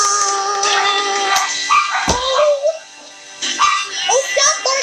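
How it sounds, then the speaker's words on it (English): Dogs yipping and whining in short excited bursts, close by, mixed with a person talking over them. "stop barking at me! These dogs are not okay with this whole getup."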